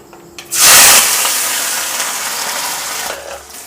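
Onions dropped into hot oil already holding bay leaves, dried red chillies and peppercorns for a Bengali chicken curry, bursting into a loud hissing sizzle that eases into a steady, continuous frying hiss.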